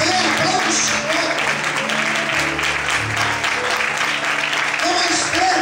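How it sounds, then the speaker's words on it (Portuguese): A church congregation claps together in sustained, dense applause close by, with voices calling out and talking over the clapping throughout. "Com mais fé, aplauda o Senhor."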